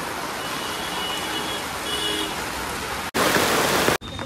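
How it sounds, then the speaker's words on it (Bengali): Heavy rain pours steadily at an outdoor vegetable market, a loud continuous wash of drops on surfaces with brief dips near the end; no talk is heard. "প্রচুর বৃষ্টি হচ্ছে আজকে, দেখতে পারো।"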